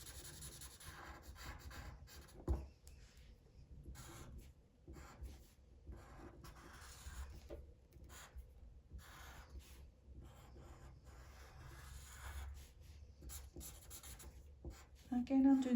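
A pen or pencil scratches steadily across paper, filling in a section of a hand-drawn half-drop repeat pattern, a soft continuous rubbing close by with faint background hum.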